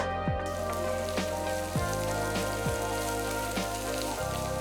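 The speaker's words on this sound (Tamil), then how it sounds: "நறுக்கின வெங்காயத்தை அதில் சேர்த்து நல்லா வதக்கிக்கோங்க" Chopped onions sautéing with curry leaves in a couple of tablespoons of hot oil in a pan for Telangana chicken: a steady, close sizzle and crackle runs throughout, with occasional spoon scrapes.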